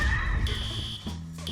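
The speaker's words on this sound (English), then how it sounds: "The alarm. Yeah, that does actually go off." Electronic alarm in the FNAF Roblox horror game sounds in steady high-pitched buzzing tones that start and stop repeatedly over low rumbling background.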